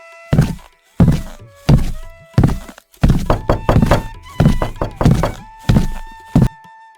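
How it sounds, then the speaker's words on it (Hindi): Knocks on a door land as loud, heavy thuds in irregular clusters over several seconds, set against soft sustained background music. "इतने में बाहर दरवाजा खटखटाने की आवाज आई।"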